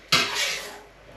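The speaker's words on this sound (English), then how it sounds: "I'm just going to pop that in the pan." Broccoli dropped into a pan: a single close clatter and sizzle that flares up sharply and then fades over about a second.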